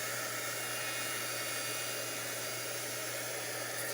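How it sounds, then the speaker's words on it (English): A hair dryer blows heat across distress ink on an index card, a steady loud whooshing roar with a low motor hum, continuous for the whole stretch with no talking. "I'm going to use this dryer real quick"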